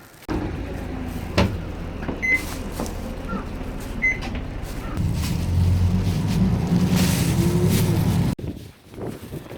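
City bus in Japan idling and pulling away, a steady low engine rumble with hissing and clunks, swelling louder midway and then cutting off near the end.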